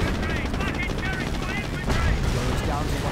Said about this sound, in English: Cromwell's getting hammered by 75mm cannon fire from the Henschel Panzernacker.